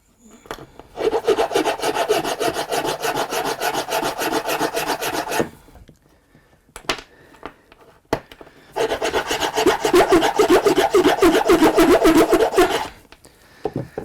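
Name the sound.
filing down a part by hand during a Karcher WD3P vacuum repair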